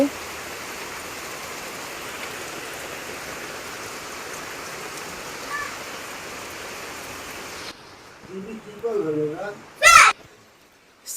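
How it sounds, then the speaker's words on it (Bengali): Heavy rain drums on a rooftop in a steady, dense hiss for about eight seconds, then cuts off abruptly as voices talk close by. "বেশ ভালোই জোরে বৃষ্টি এসেছে"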